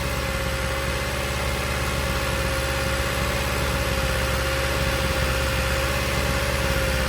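A car engine idles on its own in a steady, unbroken drone, with a constant low hum and a fixed tonal whine. The engine may have a head gasket problem. No one speaks.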